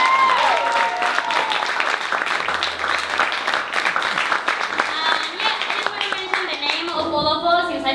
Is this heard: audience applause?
yes